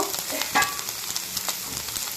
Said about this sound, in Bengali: চিংড়ি মাছটা তো এদিকে হয়ে গেছে প্রায় ভাজা